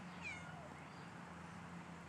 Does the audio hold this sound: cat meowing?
yes